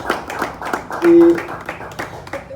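A small audience claps in a sparse, uneven rhythm of separate hand claps, fairly close, with a short steady tone and a brief spoken word partway through.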